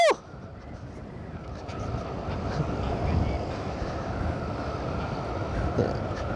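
Strong wind buffeting an outdoor spot on a road trip through northern Luzon, a continuous roaring rumble that swells and gusts throughout, with a brief sharp noise at the start.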